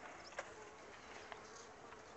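Honeybees buzz at a beehive in a steady faint drone, with a few bees passing close in brief louder whirs.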